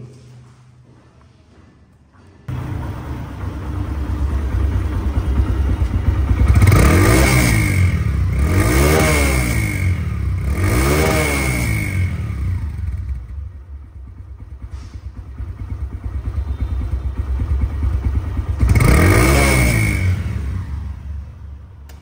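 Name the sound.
Suzuki Hayate 110cc motorcycle engine running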